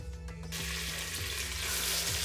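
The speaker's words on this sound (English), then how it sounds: "because I want to actually brown the meat first" Beef pieces dropped whole into hot extra virgin olive oil for a gravy beef casserole, browning with a loud, steady sizzle and crackle that rises sharply after a brief quieter start and holds close and continuous.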